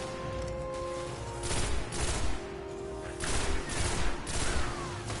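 Gunfire in the video game Destiny rattles in dense, continuous bursts, with heavier volleys swelling around the middle and again near the end, loud and close with no voices over it.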